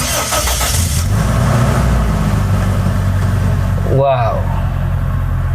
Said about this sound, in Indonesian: Terdengar raungan mesin 2000 cc 4 silinder, namun halus ya